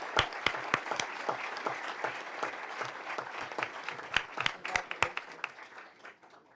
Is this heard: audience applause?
yes